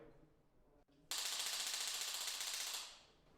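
Rapid automatic gunfire rips through a gendarmerie intervention unit selection test at a shooting range, one loud burst of about two seconds that cuts in abruptly after a quiet moment and then tapers off.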